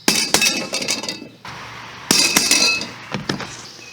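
A hammer taps a center punch against brick in an outdoor planter, giving sharp metallic clinks in two quick bursts of several strikes each, close and bright, with no talking.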